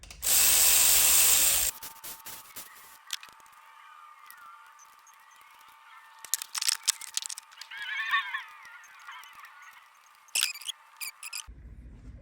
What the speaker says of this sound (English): So I'm just gonna run it down with the electric ratchet and then torque it.